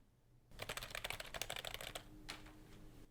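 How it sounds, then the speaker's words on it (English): Rapid clattering keystrokes on a newly bought computer keyboard, a dense burst of close clicks lasting about a second and a half, then a few scattered taps in a quiet room. "So that is the keyboard that we just bought."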